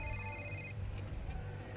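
A telephone rings in a TV drama scene, a steady electronic ring that stops partway through, heard faintly over a low background hum.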